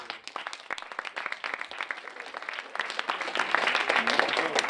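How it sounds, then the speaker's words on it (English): Students at a freshman candidate speech and debate session applaud, scattered claps building into fuller applause across a few seconds, a voice audible early on. "Can we give a round of applause?"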